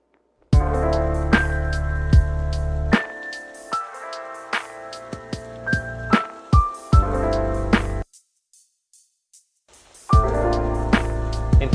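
A music mix with a steady crisp hi-hat pattern ticking over bass and synth tones, dropping out briefly before the full groove returns.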